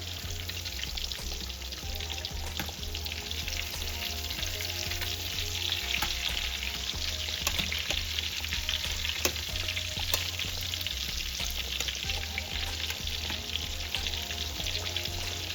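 Green tomatoes fry in a pan of oil for a Southern-style dish, producing a constant, fairly loud crackling sizzle with small pops and a low, steady hum underneath.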